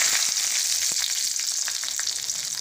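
Dried red chillies and black pepper frying in hot oil for a royal-style fish curry, giving a steady close bright sizzle with scattered small crackles and pops throughout, no voices.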